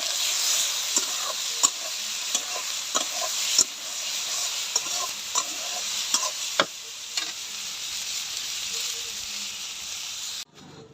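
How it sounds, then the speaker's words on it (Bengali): Soya chunks frying in oil for a vegetarian dish, a continuous close sizzle punctuated by irregular sharp taps and scrapes of a spoon stirring in the pan, ending abruptly. "তেলে ভালো করে ভাইজা নিব"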